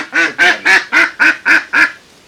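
Seven loud, close Peking duck quacks in an even rhythm on a duck farm, then quiet.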